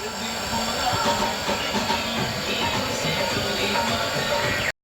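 A household water pump motor runs steadily at a home washing area, giving a continuous droning, hissing whir at moderate level that holds even throughout and then cuts off abruptly at the end.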